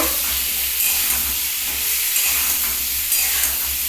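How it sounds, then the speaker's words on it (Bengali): Potato curry with spices sautéing in a pan, a steady close hiss and sizzle with light stirring scrapes running throughout, no voices. "এটাকে আরেকটু কষানো হবে দেখো কষানোটা হয়েছে"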